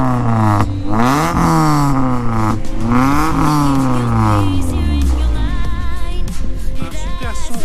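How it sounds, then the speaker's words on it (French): A Honda Prelude engine is revved hard several times, each rev climbing sharply and falling back, loud and close, before settling into a rougher idle with clattering. "Un super son Honda."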